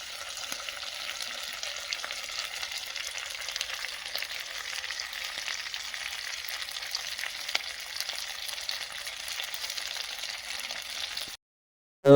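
Pieces of mutton fry in a pan over a wood fire, giving a steady, dense sizzle and crackle with no talk. The sound stops abruptly near the end.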